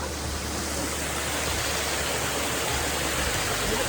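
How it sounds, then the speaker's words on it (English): A waterfall at a campsite pours in a steady, even broadband rush, constant and moderately distant with no voices over it. "Here's the waterfall."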